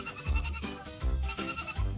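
Goats bleat in short, wavering cries, three separate calls spaced about a second apart, close and clear with no talking.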